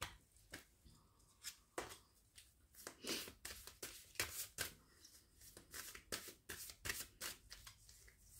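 Oracle cards are shuffled by hand for a card reading, giving a quiet, close series of crisp riffling and sliding flicks in an uneven rhythm, with no voice over it.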